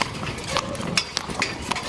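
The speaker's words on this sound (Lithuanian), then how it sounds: "Žiūrėk, jis aklas arklys, uždarytos akis." Hooves of a blind horse clip-clop on a city street in Lublin in a steady walking rhythm, fairly close, with people talking over the steps.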